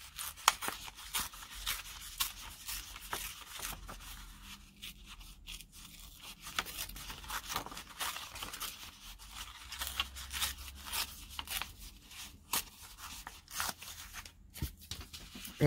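Paper images being torn by hand from a page for a craft project, a long run of quiet, irregular rips and rustles with crisp scraping bursts, close and faint, with no talking.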